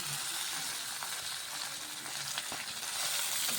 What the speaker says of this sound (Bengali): এটা আমি ভেজে নেবো ভালো করে।